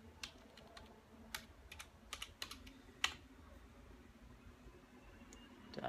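Someone typing a password on a computer keyboard of a Dell XPS 8700 desktop: a short run of light, quiet key clicks with a few sharper taps, in a hushed room with no talking.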